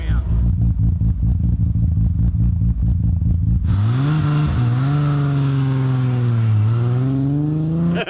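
A Nissan GT-R drives at a car shoot, its engine loud and close: a steady low rumble for several seconds, then rising and falling revs with shifting pitch, with people talking nearby.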